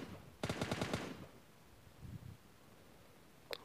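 A quick burst of rapid gunfire in PUBG Mobile Lite, about a half-second of automatic shots, followed by faint shuffling and a single sharp click near the end.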